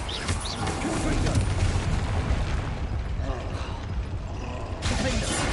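A Confringo fire spell blasts in Hogwarts Legacy, a loud, dense burst of explosive rumble and crackle that fills the whole stretch amid the noise of battle, with a fresh impact hitting near the end.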